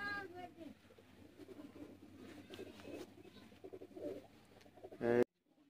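Sialkoti pigeons coo softly in a series of low, repeated calls mixed with other faint bird sounds and what may be voices, ending in a short, loud burst before the sound drops away.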